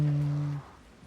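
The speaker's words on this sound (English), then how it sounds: "Right now it sounds like a motorcycle engine." A car engine that runs rough like a motorcycle, giving a loud, steady low hum that cuts off sharply after about half a second, leaving a faint quiet background.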